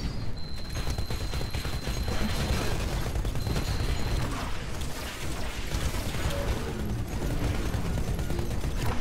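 Continuous rapid gunfire from a Titanfall multiplayer match in Angel City, dense and loud throughout with mechanical clatter mixed in.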